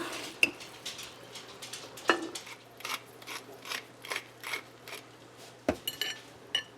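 Sausage meatballs and scalloped vegetables being served onto a plate, with scattered clinks and scrapes of a serving utensil against dishware in a quiet kitchen, a few sharper knocks standing out over soft handling noise.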